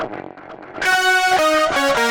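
Electric guitar drenched in heavy delay playing together with a bright Massive synth preset, a soft smeared wash of repeats that swells into sustained, harmonically rich layered notes.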